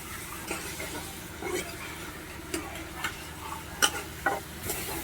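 Ginger, garlic and green chilli paste sautés for chicken biryani, a soft frying sizzle with scattered ladle clicks and scrapes against the pan, close and fairly quiet.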